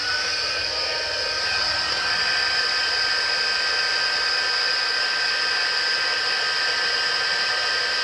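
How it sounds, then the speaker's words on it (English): An embossing heat tool blows hot air to melt embossing powder on a craft project, producing a steady, loud, high-pitched whine and rushing hiss with no talking. "I'm going to switch on my heat tool now to emboss this."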